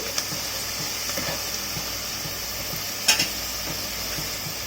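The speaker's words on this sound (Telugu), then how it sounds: "ఉల్లిపాయ వేగిందండి." Onions fry in a pan with a steady bright sizzle, punctuated by occasional light stirring scrapes and one louder clink of utensil against the pan, close and even throughout.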